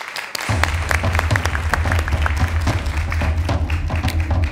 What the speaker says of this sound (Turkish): Alkışlar hiç durmasın.